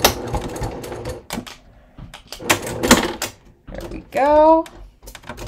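A sewing machine back stitching the seam of a leather crossbody bucket bag, producing short bursts of rapid mechanical clatter separated by pauses, while someone speaks between runs.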